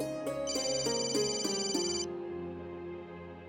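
A phone ringtone plays a repeating electronic tone pattern, a few quick pulses with a bright melody, then stops, leaving a low hum.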